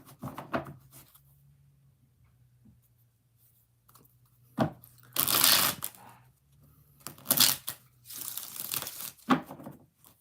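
Tarot cards being shuffled by hand, a few separate bursts of riffling and rustling with quiet pauses between them, close and fairly loud over a faint steady hum.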